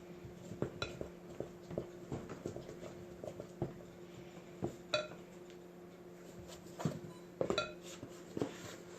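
Dumpling dough mixture cooking in a pot, stirred with a utensil that gives faint, irregular scrapes and clinks against the pot over a low steady hum.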